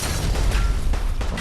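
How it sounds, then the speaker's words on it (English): A grenade goes off in Fallout 4, a loud, dense, low rumbling blast that fills the whole moment with continuous roaring noise and no voices. "Grenade."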